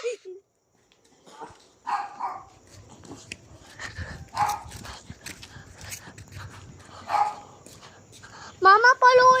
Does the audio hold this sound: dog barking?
yes